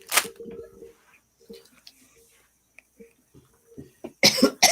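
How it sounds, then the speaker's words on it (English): A sharp single cough opens, followed by faint clicks and quiet noises, then a second burst of harsh coughing near the end, close and fairly loud against an otherwise quiet room. "Good cough."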